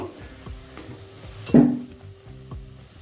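Spice mix being stirred into vegetarian veg biryani in a pan, a spoon scraping and turning the mixture in soft repeated strokes with a louder clatter midway, gentle sizzling underneath.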